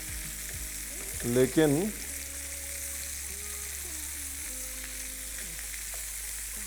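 Tomato masala gravy for chicken curry sizzles steadily in a pan as it is stirred, a close continuous frying hiss with a brief louder burst where a voice speaks a single word.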